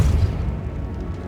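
A Depulso spell cast in the Hogwarts Legacy video game lands as a short, heavy boom with a deep rumbling burst that fades quickly, loud and close.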